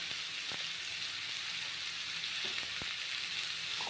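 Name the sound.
frying with salt for Malabar spinach and prawn dish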